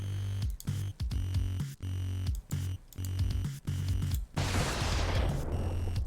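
Reaction-fire gunshots in the turn-based strategy game Xenonauts ring out as a run of evenly spaced, sharp reports, then give way to a noisy burst.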